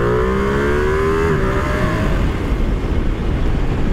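A Ducati Panigale V2 motorcycle engine revs in neutral, a loud, close, steady roar whose pitch sweeps down and settles into a rough, throbbing idle.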